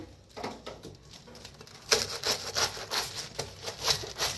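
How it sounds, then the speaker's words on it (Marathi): A knife finely chopping capsicum, carrot and onion for momo filling: quiet handling at first, then a steady run of close, rhythmic taps and crunches on a board. "आता ह्यांना बारीक असं कापून घ्यायचं आहे।"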